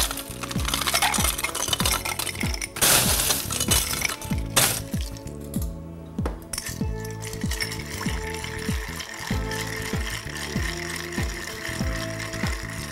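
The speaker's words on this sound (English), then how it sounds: "and give that a good little stir." Ice clinks and rattles rhythmically as a bar spoon stirs a cocktail with Angostura, orange and chocolate mole bitters in a mixing glass, a close, steady series of quick glassy ticks lasting several seconds.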